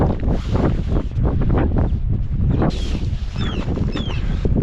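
Strong wind gusts steadily across open sand dunes near the shore, a constant loud roar with buffeting against the microphone and faint higher whistling tones partway through.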